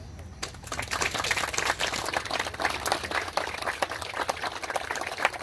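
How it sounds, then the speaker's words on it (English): Steady applause from a crowd at a lodge awards luncheon, dense clapping filling the room for several seconds with no talk over it. "you all deserve this standing round of applause."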